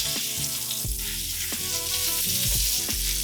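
A salmon fillet pan-frying in hot oil, skin and flesh sizzling steadily and loudly up close, with a few soft knocks of a utensil or the pan moving.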